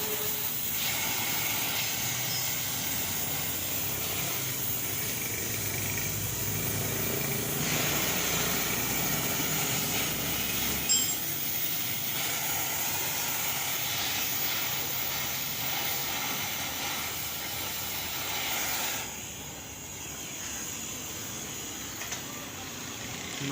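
A gas welding torch gives a continuous loud hiss close by, steady for over twenty seconds before thinning slightly near the end, with no speech.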